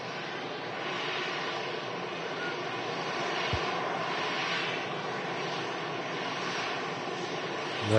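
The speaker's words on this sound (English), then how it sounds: "as the North Dreamliner makes a turn" Boeing 787 Dreamliner jet turning at Manchester Airport, a steady distant engine roar with a broad rushing whine that holds level from start to finish, with no talking.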